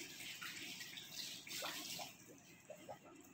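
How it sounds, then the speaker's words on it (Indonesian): Water runs from a tap as hands are rinsed clean after soaping, a steady faint hiss of flowing water with light splashing from the hands, quiet and continuous. "Bilas dengan air bersih."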